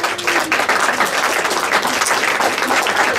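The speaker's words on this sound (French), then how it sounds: "On peut l'applaudir encore," An audience applauds at a tribute evening for a library in Farnham. Loud, continuous clapping from a sizeable crowd holds steady for the whole stretch with no speech over it.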